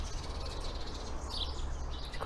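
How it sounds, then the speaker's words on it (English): Garden birds chirp and call outdoors in spring, faint and somewhat distant over a steady background hum, with scattered tweets and one brighter call standing out briefly. "Quite noisy with them birds."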